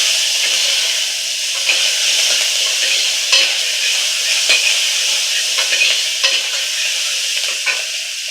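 Onions fry in a pan until they turn pink, with a loud, steady hiss of sizzling oil close by and frequent light stirring clicks throughout.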